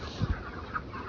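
Chickens cluck inside a poultry shed, a short burst of two quick low clucks followed by a softer call against a steady background hum of the flock.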